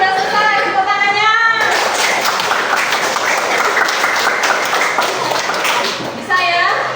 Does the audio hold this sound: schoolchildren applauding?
yes